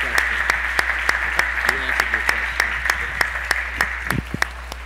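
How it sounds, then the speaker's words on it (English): A small audience at a town hall meeting claps in a sparse round of applause, with distinct individual claps close by over a steady low hum and murmuring voices. "let's give them a round of applause"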